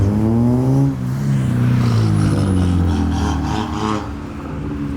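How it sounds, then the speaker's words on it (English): Low-slung modified BMW E36 leaving a car meet, its engine rumbling steadily and close as it eases over a speed bump, with a brief dip in the exhaust note partway through. "E36 again, going over the speed bump."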